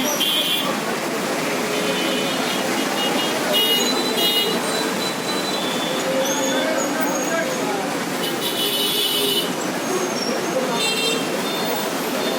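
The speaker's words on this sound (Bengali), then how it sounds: "লিচু ব্যবসায়ী, ওই যে আবার শরবত ব্যবসায়ী, অনেক গাড়ি কোলাহল।" Busy roadside traffic near a market with litchi and sherbet sellers: a continuous dense roar of vehicles, several short horn toots and buzzy honks, and a person talking over the din throughout.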